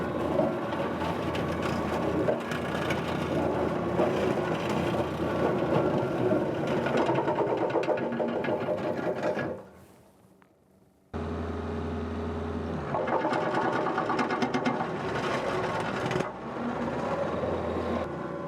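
Kubota LX3310 compact tractor driving a brush mulcher, a steady busy mechanical whirring drone that briefly drops away to near quiet before resuming at full strength.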